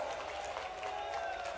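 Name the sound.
crowd applause at a political rally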